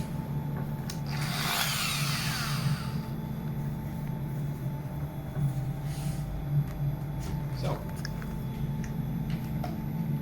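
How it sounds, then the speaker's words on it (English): Orbital sander fitted with soft pads buffing polishing compound over a polyurethane top coat toward a high gloss; a steady close whirring hum runs throughout, with a brighter rubbing swell early on, and no talking. "this is a orbital sander with the soft pads attached, and we'll use the polishing compound with this to buff it to a high shine"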